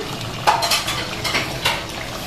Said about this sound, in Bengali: আর এখানে নানু আমাদের জন্য চা বানাইতেছে